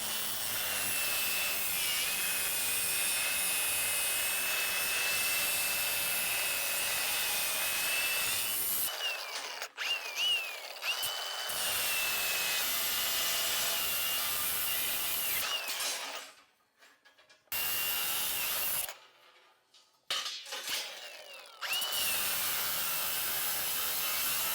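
Rebar pieces being cut with a power tool, a steady loud grinding whine running for long stretches, broken by a few short pauses and abrupt stops.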